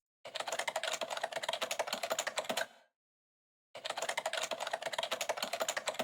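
Typewriter keys clatter in a fast, steady stream of close, loud strikes in Honkai Impact 3rd, breaking off into silence for about a second before the rapid typing resumes.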